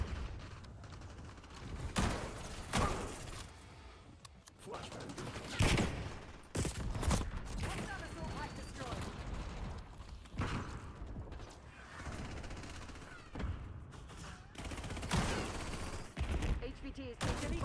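Video game gunfire crackles in bursts of rifle shots and rapid automatic fire, some near and sharp, others farther off, mixed with mechanical clanks amid a firefight.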